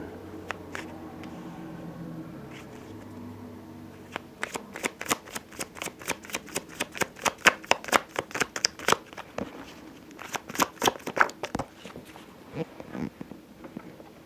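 Tarot cards riffled and shuffled by hand, a run of quick crisp flutters and snaps building into dense rapid bursts, close and fairly loud with no talking.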